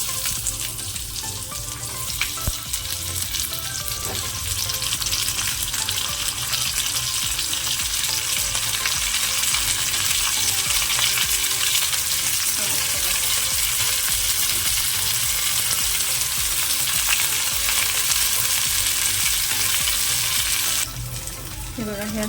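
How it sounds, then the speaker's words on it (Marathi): Stuffed bitter gourd (karela) fries in hot oil with curry leaves, giving a loud, steady, close sizzle that continues without a break for the whole stretch and cuts off near the end. "इथे तेल घेतले आणि त्यात फक्त कढीपत्ता टाकला. त्यात एक कारलं"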